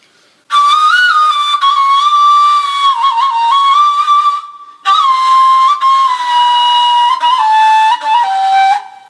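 A ney flute plays a breathy, sustained taksim in makam Rast, gliding between long held notes with ornamented bends, loud and close, with one brief pause midway.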